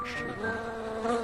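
Cartoon flies buzzing close by, a short whining drone with a steady pitch that wavers slightly, heard alone.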